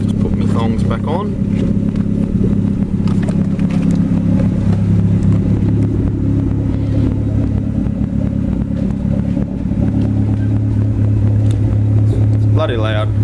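A Mitsubishi Cordia Turbo running 13 psi boost with a sports exhaust and cannon muffler idles loudly and steadily close by, a deep continuous engine drone throughout with a brief blip near the end.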